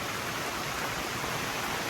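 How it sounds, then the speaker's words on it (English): Rain falls outdoors over a garden in a constant, even hiss that never changes in level, moderately loud and uninterrupted by voices. "Well, the rain has reduced"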